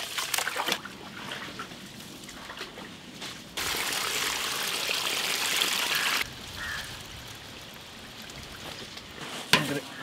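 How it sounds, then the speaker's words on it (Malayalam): Rice being washed in water for Malaysian nasi lemak, soft trickling and sloshing with a louder pouring stretch in the middle, faint and close. "അരി നല്ലപോലെ കഴുകിയെടുക്കണം"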